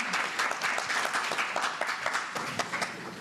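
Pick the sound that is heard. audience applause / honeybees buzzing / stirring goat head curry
audience applause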